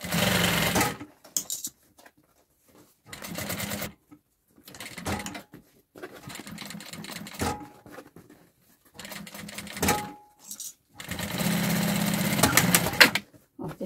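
A sewing machine stitches a three-compartment baby daycare bag in bursts: short and long runs of motorized whirring separated by pauses, close and fairly loud, with no talk.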